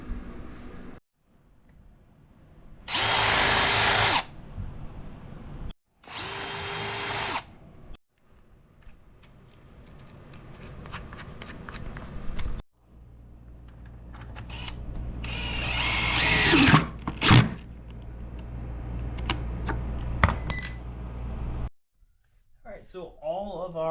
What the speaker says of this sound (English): use a concrete bit to drill a hole into the concrete